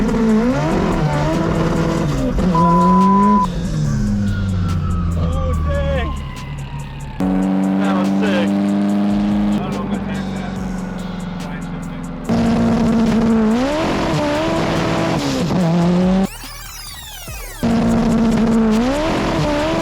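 A 1000+ horsepower Subaru STI drag car launches hard, its loud engine revving and climbing through shifts with sharp breaks between gears, one burst of harsh crackle near the end, all close and intense.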